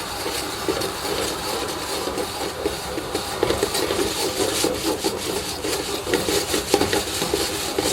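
Popcorn kernels and oil stirred in a pot over a lit gas flame, giving a steady close scraping, rustling rattle that runs continuously with small irregular bursts.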